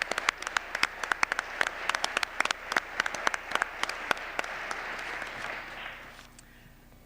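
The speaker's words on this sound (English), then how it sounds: "Please give these organizations a wholehearted round of applause" Audience applauding at a county arts and humanities awards ceremony, a steady wash of many hands clapping with sharp individual claps on top, holding for several seconds before thinning out and fading near the end.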